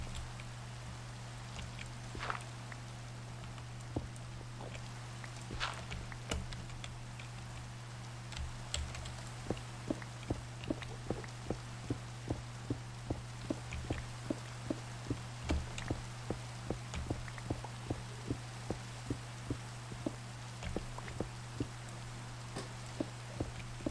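Rain pattering in modded Minecraft, a steady dense patter of drops with a low constant hum beneath, continuing evenly throughout at moderate, fairly quiet level.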